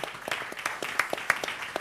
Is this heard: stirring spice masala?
no